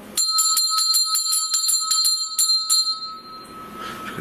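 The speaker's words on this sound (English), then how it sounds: "Gonna ring the bell." A bell in an old mansion during a nighttime ghost hunt rings in a quick run of bright, ringing strikes for about three seconds, then fades into quiet room noise with no talking.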